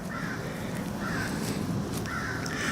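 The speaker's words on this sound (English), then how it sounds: "there's little crows." Several crows caw in three spaced calls over a steady outdoor background hum, distant and unaccompanied by speech.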